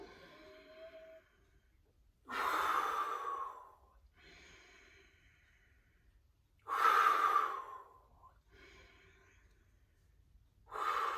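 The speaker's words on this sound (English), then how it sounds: "great big full breath in. And exhale" During power yoga practice, deep breaths sound close and clear: two long audible exhales, or sighs, each lasting over a second, with quieter inhales and pauses between and a third breath starting at the end.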